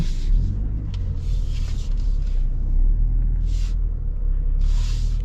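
A new Toyota 250 Land Cruiser grinds up a steep off-road slope with its center differential locked. A loud, steady low engine rumble fills the clip, with brief hissing bursts over it.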